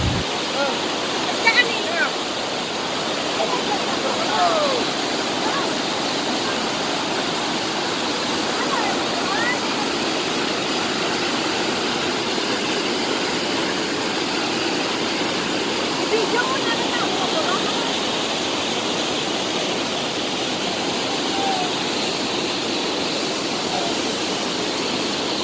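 A waterfall roars as a steady, broadband rush of falling water seen from a nearby boat, constant and loud for the whole stretch with no real change in intensity.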